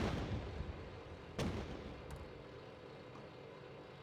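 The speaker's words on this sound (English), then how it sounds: "Incoming missile." A distant, muffled missile strike in the tank simulator Steel Beasts Pro PE, with a soft dull thump or two rising from low rumbling battlefield ambience, faint and far off.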